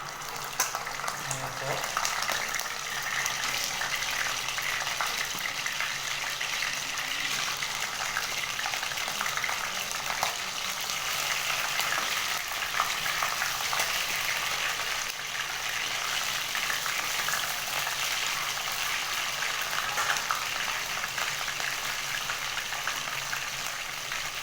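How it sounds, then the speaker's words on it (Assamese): Fish fry in hot oil in a wok, a dense, even, rain-like sizzle that holds steady and loud for the full length, with no pauses and no voices. "এয়া আমাৰ কেৰাহীৰ তেলটো গৰম হৈ গৈছে। এতিয়া আমি মাছকেইটা ইয়াত ফ্ৰাই কৰিম।"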